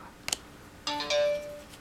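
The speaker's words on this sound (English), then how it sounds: "Sorry, that was my phone." Mobile phone ringtone: a couple of sharp bright chirps, then a short rising electronic melody with a sustained tone, close and clear over a quiet room.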